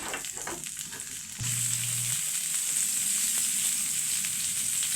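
Onion hits a little cooking oil in a pan and breaks into a steady, bright sizzle that stays loud and even, with light stirring scrapes and no voices.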